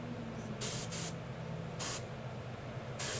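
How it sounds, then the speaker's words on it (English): An airbrush sprays paint in four short hissing bursts, close and crisp, with quiet pauses between them. "That's how it's spraying, right there."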